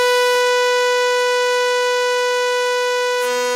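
Synthesizer tone shaped like a struck violin bow, a piercing steady high pitch held for several seconds with a click near the start and a shift in tone at the end, alone and loud.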